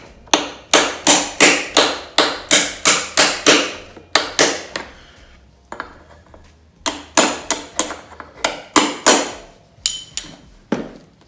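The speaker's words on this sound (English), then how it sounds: "This one here is a little bit tighter, so I got my little man hammer." Loud, rapid metallic hammer taps in quick bursts, a small hammer tapping out a tight hinge pin on a 1980 Yamaha XJ650 motorcycle, a steady run of strikes, a pause, then more rhythmic blows, close up with no talking.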